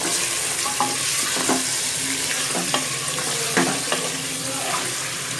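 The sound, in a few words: mutton frying and being stirred in hot oil with onions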